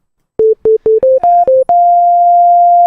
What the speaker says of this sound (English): So we have our sine wave, right?